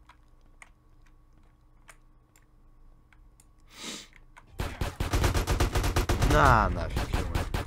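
In GTA San Andreas, quiet scattered clicks and a brief rush give way to a sudden loud stretch of rapid automatic gunfire, and someone speaks a short line in Russian as the shooting starts.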